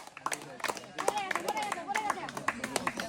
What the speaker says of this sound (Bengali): জোরে তালি দিয়েন, তালি দিয়েন